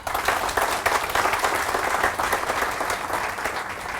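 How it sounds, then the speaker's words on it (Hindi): Sustained, dense applause from a large audience at a motivational training seminar in Mumbai, loud and steady throughout without a break. "ये आपके लिए एक जोरदार ताली हो जाए"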